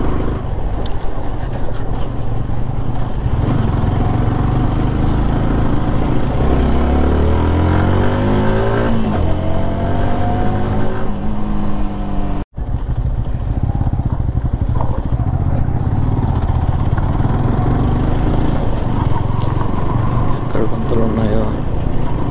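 A new TVS Apache motorcycle rides a rough, broken road, its engine droning loudly with rising and falling revs and a wind-buffeted rush throughout, while the rider talks over it.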